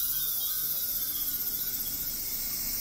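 A dense, steady insect drone of cicadas fills the air in Fukui, Japan, high-pitched and continuous, with faint low background rumble and no pauses.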